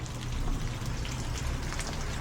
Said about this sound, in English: It started raining.